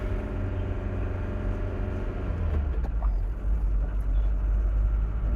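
A 1983 Mercedes-Benz 240D with a warped clutch disc shuddering as it climbs a hill, a low rumbling engine drone that wavers and judders midway through, heard from inside the car.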